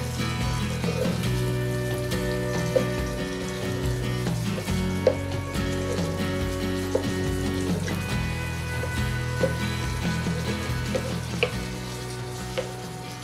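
Masala bubbles in a pan with a continuous sizzling simmer and occasional small pops and knocks, close and moderately loud with no talking.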